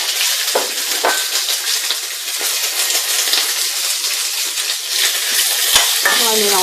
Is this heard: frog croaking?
no